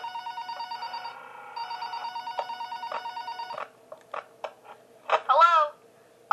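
A telephone rings in the game Five Nights at Powerpuff Girls with repeated electronic rings in a steady rhythm, clear and close, before the ringing cuts off and a few clicks and short vocal sounds follow.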